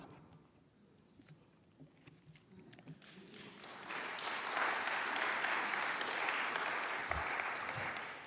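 An audience applauds after a performance, starting as faint scattered claps and swelling midway into steady, full applause.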